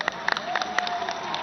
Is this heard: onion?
no